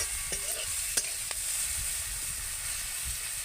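Two vegetables frying in oil in a pan, a steady close sizzle with a few brief scrapes of stirring, no voices.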